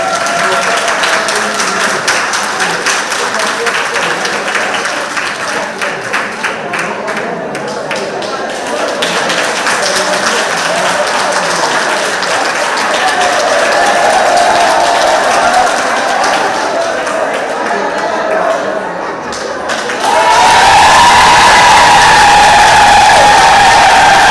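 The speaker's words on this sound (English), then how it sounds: "you're going to give your applause" An audience at a monthly club meeting applauds and cheers for a contestant, sustained clapping and crowd noise filling the room steadily and growing louder toward the end.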